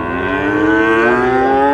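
A cow at a cattle market lets out a loud, sustained moo that holds steady for nearly two seconds, close by with no talking over it.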